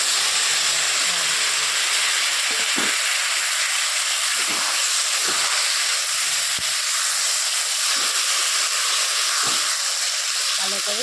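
Vegetarian vegetables added to frying soybean chunks produce a loud, steady sizzling hiss that runs throughout, close by, with a faint voice occasionally underneath.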